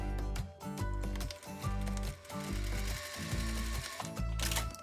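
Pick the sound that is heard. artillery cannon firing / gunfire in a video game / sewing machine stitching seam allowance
sewing machine stitching seam allowance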